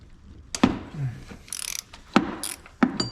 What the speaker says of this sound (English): I'm going to come back in here with my electric ratchet.